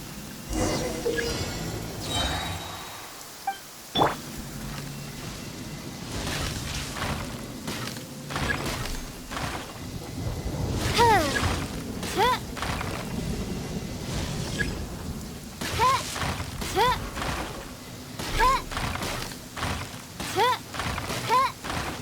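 Thunder rumbling in the Genshin Impact video game, low broadband rumbles and crackling bursts under a busy game soundscape with music-like chirps, moderately loud and continuous throughout.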